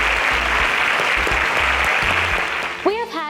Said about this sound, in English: Let's give them a deserving round of applause.